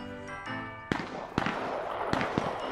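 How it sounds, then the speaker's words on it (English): Distant gunfire in the Cuisine Royale battle royale game, a few sharp cracks spaced irregularly over a steady background hum, with faint talk in the mix. "There's gunshots. People are fighting."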